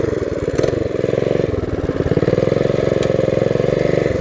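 A minibike engine fitted with a torque converter runs smoothly and loudly nearby, its rapid even exhaust pulse steady throughout with no talking.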